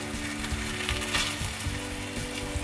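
A cauliflower tortilla fries in a pan over medium-high heat, giving a steady, close sizzle with faint crackles and no voices.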